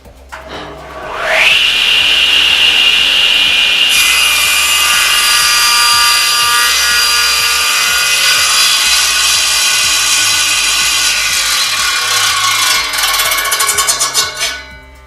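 A SIP professional cast iron table saw spins up and cuts through wood, a loud steady whining buzz that holds for most of the stretch before winding down near the end, with no talking.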